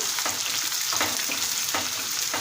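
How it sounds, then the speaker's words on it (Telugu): Onions and green chillies fry in a pan, with a dense, steady close-up sizzle and soft, regular stirring scrapes running through it. "ఫ్రై చేసుకోండి ఆనియన్స్ని"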